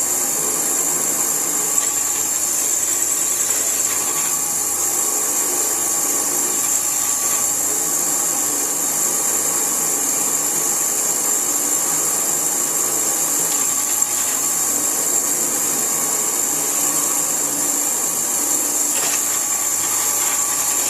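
A power drill bores a hole during a grinder-in-a-box build, giving a steady, continuous high-pitched whine that holds at a constant level and close range for the whole stretch, with no talking.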